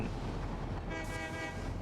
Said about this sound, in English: We'll catch a ride with this silica train.